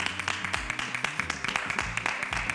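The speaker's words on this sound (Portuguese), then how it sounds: "Vou aplaudir." Hands clapping in quick, uneven rhythm, a string of sharp claps fairly close and moderately loud, mixed with a murmur of voices in the background.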